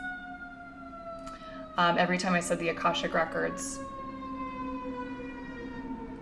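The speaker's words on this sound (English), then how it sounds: "And there's a lot of sirens going on right now." Emergency vehicle sirens wail steadily outdoors as drawn-out tones throughout, continuing under a person talking in the middle stretch.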